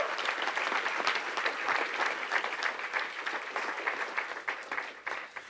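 A banquet audience at an awards show applauds steadily, a sustained wash of many hands clapping from across a large room, fairly even throughout and slightly thinning toward the end.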